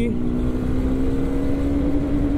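A Yezdi Adventure motorcycle under way on a gear-by-gear acceleration run, its engine a loud, steady droning hum that holds an even pitch, mixed with wind and road rumble.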